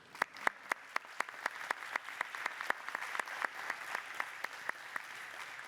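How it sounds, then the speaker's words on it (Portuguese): Audience applause for speakers at the close of a panel at an energy conference session, steady clapping with sharp hand claps standing out rhythmically above the wash, moderately distant and sustained throughout. "pedir só uma salva de palmas aos oradores"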